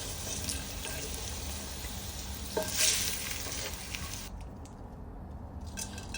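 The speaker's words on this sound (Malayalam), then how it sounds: "ഗോൾഡൻ ബ്രൗൺ ആവുന്നവരെ ഫ്രൈ ചെയ്തെടുക്കുക" Ingredients for Kolkata chicken biryani fry in a hot pan until golden brown, giving a steady, close, crackling sizzle with a brief stir partway through.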